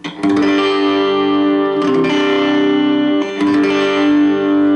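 Sustained guitar chords ring out through a tube preamp on its second channel, with a slightly gritty, overdriven edge, loud and close, struck three times.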